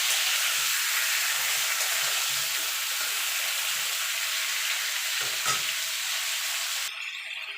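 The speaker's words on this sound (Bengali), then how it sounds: "নুনটা দিয়ে সবজিটা একটু ভাজা ভাজা করে নেব।" Chopped vegetables for a Bengali pui shaag (Malabar spinach) dish frying in a pan with a pinch of salt, a loud continuous close sizzle with faint stirring scrapes, alone without talk.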